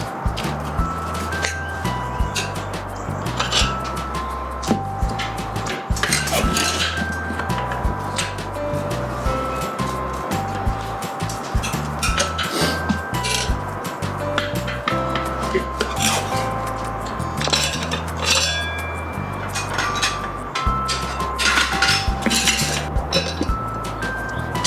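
Steel tire spoons prying a stiff-sidewalled Tusk tire off an adventure motorcycle rim, heard as continuous close metallic clinks, scrapes and rubbing with a steady low drone underneath and no talk.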